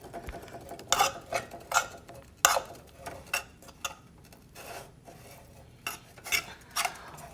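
Ramen noodle casserole being spread around a pan on a stove, with irregular scraping and tapping of a utensil against the pan, close and fairly quiet, no talking.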